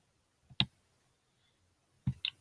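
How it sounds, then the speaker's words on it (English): A computer mouse clicks while code blocks are dragged and snapped together in a coding exercise. There are two sharp, close clicks about a second and a half apart, then a softer second tap, all in a quiet room. "I'm dragging these up here"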